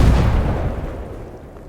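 A grenade goes off in the video game Stalker Gamma: one loud, close, low boom that rolls away into a fading rumble over about two seconds, with no talk.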